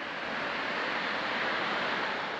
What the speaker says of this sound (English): You can hear the River Tees running past below.